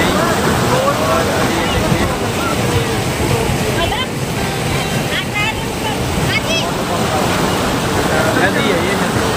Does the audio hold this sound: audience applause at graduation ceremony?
no